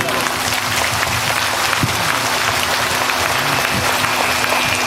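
Crowd at a Bhagwat Katha religious gathering in Vrindavan applauding a singer, dense continuous clapping throughout with a brief voice mixed in.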